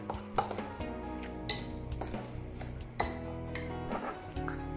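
Ingredients for a chicken tikka club sandwich are stirred together in a bowl with a spoon, giving repeated metallic clinks and scrapes against the dish in an irregular rhythm, close and fairly clear, with no talking.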